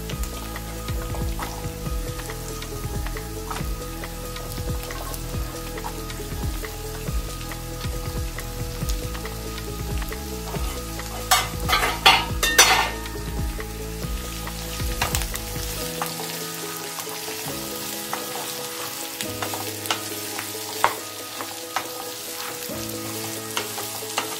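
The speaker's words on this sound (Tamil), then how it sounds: "கொஞ்சம் வதங்கட்டும்." Chopped chayote (chow chow) and onions sauté in a pan, a steady close sizzle and crackle with stirring scrapes that peak midway, then settle into a softer hiss with occasional clinks.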